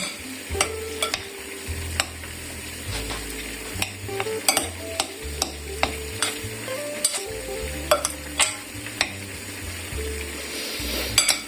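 Stuffed pepper mixture being stirred thoroughly, with close scraping and clinking of a utensil against the pan over a constant low sizzle, strokes coming at an irregular rhythm.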